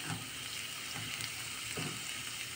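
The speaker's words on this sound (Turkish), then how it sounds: "Pırasalarımı doğradım. Kavuruyorum plaska için." Chopped leeks sautéing in a pan for plaska, a steady close sizzle with faint stirring scrapes running throughout and no voices.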